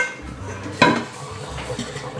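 Plates, cups and glasses being loaded into a dishwasher in a home kitchen: soft ceramic knocks and clinks, with one sharper clatter near the middle, moderately close.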